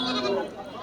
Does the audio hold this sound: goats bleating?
yes